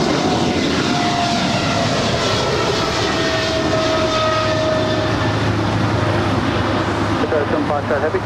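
A Qatar Cargo plane takes off from runway 25 left at LAX, making a loud, steady roar of jet engines that fills the whole stretch, with speech heard over it.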